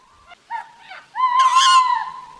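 A cartoon owl gives a few short hoots that rise into a longer, louder wavering hoot. Each call is clear and close against silence.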